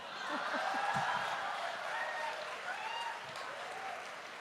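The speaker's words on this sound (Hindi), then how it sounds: "देखिए तालियां भी बज रही हैं" Audience applause at a Hindi talk or comedy event, a steady dense clapping that fills the whole stretch at moderate level, with a few voices faintly audible beneath it.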